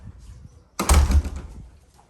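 A plastic dog door flap swings open and clatters shut in a home, one loud knocking burst with a short rattle, preceded by a quiet room.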